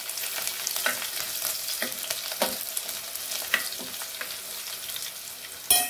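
Cumin seeds, curry leaves and chopped green chillies frying in oil for sabudana khichdi, giving a continuous sizzle with repeated stirring scrapes and a sharper clatter right at the end.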